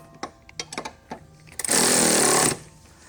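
A power tool tightens bolts on an R34's suspension during an overhaul: several short bursts of whirring, then one loud sustained run of almost a second, close by.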